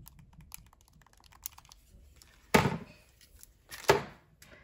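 Blue and red Nintendo Switch Joy-Con controllers snap onto the console with two sharp, close clicks a little over a second apart, against near silence.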